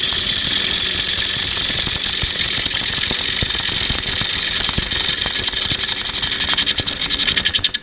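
Bowl gouge cutting a wooden bowl blank on a lathe, a steady broadband hiss of the cut with a faint motor hum beneath, continuous and close throughout with no talk.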